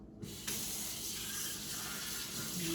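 Water runs steadily from a kitchen tap as a container is rinsed out, a continuous close splashing hiss with a brief clatter at the start and no talk.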